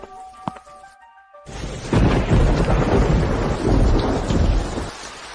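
Heavy rain with thunder in a city street: a deep rolling thunderclap swells into a loud, steady downpour, after a brief quiet gap following some faint tonal sounds.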